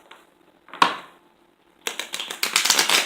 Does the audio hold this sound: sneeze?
no